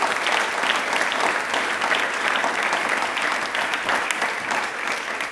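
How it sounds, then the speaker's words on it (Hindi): Strong, sustained applause from an audience at a quiz programme on the railways honours a former minister, dense and even, holding at full strength for over five seconds. "एक बार तालियां प्लीज जोरदार होनी चाहिए इनके लिए"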